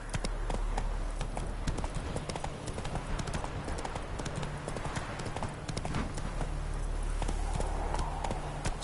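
Geralt's horse Roach galloping in The Witcher 3, a fast continuous hoofbeat rhythm over a low rumble, close and steady throughout.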